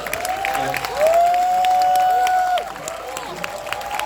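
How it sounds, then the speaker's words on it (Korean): An audience at a VIP film premiere stage greeting for Black Money applauds director Im Kwon-taek, a steady moderate roar of clapping that swells briefly in the middle, with a sustained tone and voices over it. "박수 한번"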